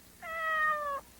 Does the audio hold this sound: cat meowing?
yes